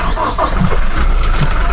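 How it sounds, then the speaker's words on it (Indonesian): A Toyota Innova Special Edition starting up with its doors open: a brief cranking whir catches into a loud engine rumble that settles toward idle, close by, with no talking. "Kita nyalakan mobil Innova ini dalam keadaan"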